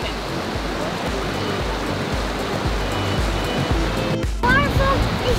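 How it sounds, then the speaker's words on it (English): A huge waterfall roars continuously outdoors, a loud, dense broadband rush of falling water, with a brief voice rising over it near the end. "Waterfall is huge!"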